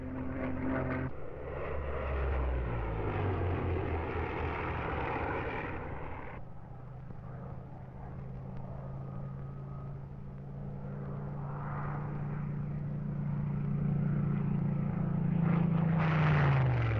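A Supermarine Spitfire Mark 9 fighter's piston engine roars loudly, with a pitch that falls as it passes, then steadies into a sustained drone that swells again near the end.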